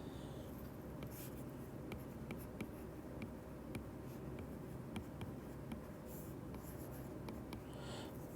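Pen or pencil writing values by hand on paper, a continuous quiet scratching with small regular ticks and strokes, close and faint over a steady low room noise.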